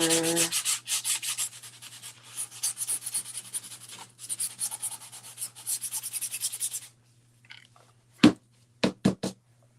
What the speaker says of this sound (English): Let me just grab my sandpaper.